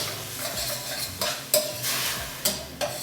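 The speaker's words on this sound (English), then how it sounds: "I'll just use that to stir." A spoon stirs chana masala in a hot pan with ghee, scraping and clinking against the metal in several short strokes over a steady sizzle, close and without talk.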